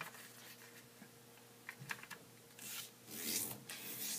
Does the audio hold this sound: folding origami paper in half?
yes